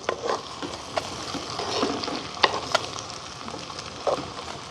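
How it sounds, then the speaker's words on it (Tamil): Brinjal and onions sizzle steadily in a hot pan as they are stirred and sautéed, with scattered scraping clicks from the spoon over the frying. "கத்திரிக்காய் நாங்கள் வதங்க போட்டு அப்படி ஒரு 3-4 நிமிஷம் ஆகுது."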